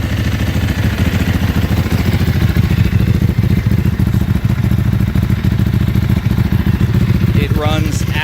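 A 2005 Ducati 999 Superbike engine runs loud and close at a lumpy, pulsing idle with mechanical clatter throughout, and a voice briefly speaks near the end.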